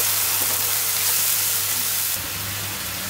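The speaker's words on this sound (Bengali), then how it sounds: "মশলাটা কষানো হোক।" Spice paste of turmeric, salt, coriander, cumin and chilli powder with garlic paste frying in a pan, a steady close hiss and sizzle that eases slightly partway through.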